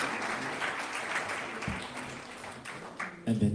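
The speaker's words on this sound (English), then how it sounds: "give Kumu a round of applause and her hamana for coming from Oahu" Audience applause at a hula competition for a visiting kumu hula and her halau from Oahu, a steady wash of clapping filling the room, swelling briefly near the end.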